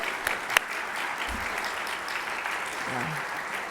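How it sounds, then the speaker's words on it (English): Steady applause from colleagues at a national faculty meeting, a broad wash of clapping at moderate level with a couple of sharper claps near the start and murmured voices underneath. "Could we have a round of applause for those colleagues?"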